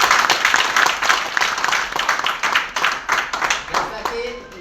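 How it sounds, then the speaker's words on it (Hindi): Meeting attendees clap loudly and close by, with uneven bursts of hands that swell and dip in rhythm before tapering off into a quieter tail, voices murmuring faintly beneath. "मैं आप सभी लोगों से जबरदस्त तालियां चाहूँगा।"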